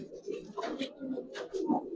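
Giribaz pigeons, an old-generation breed, give low soft coos in short overlapping bursts, close and moderately loud, with faint rustling between calls.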